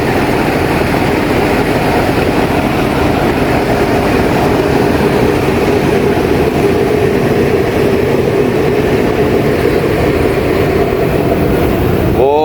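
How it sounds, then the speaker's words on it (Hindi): Two diesel locomotives coupled in multiple units, the leading unit started, give a steady, loud low engine rumble that runs unbroken throughout. "ये भी स्टार्ट है और ये लीडिंग लोकोमोटिव है"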